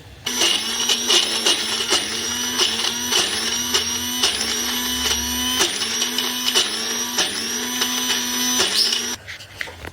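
An electric kitchen mixer grinds green chilies, garlic and coriander, a loud close whirring motor with rhythmic pulsing bursts as it is switched on and off repeatedly before stopping near the end.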